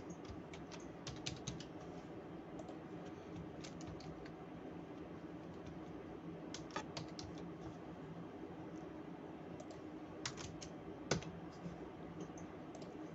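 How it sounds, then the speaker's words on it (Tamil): Computer keyboard typing as a username and password are entered on a web portal, with clusters of quick keystrokes and pauses between them, recorded close but faint under a steady low hum. "அந்த யூசர் நேம் பாஸ்வேர்டை நம்ம இங்கே வந்து டைப் பண்ணணும்"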